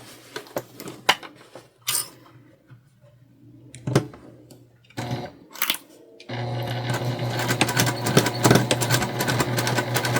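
Sewing machine stitching the corners of a make-up bag, preceded by scattered clicks and handling noises, then running in a steady close whir for the last few seconds.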